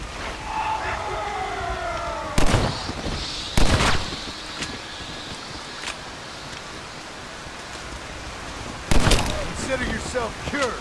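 Gunshots in the zombie western game Red Dead Redemption: Undead Nightmare: three sharp, loud reports spaced several seconds apart, each a sudden crack over a quiet ambient background with faint voice-like tones.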